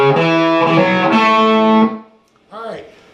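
Distorted electric guitar playing a lick, a few seconds of bright, sustained chords and picked notes, then a brief pause and a short bent phrase at the end.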